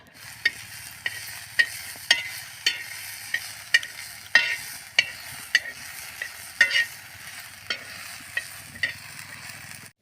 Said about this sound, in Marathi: आता तव्यावरती थोडंसं तेल टाकूया आणि हे जे दाणे आहेत आपण घेतलेले ते परतून घेऊया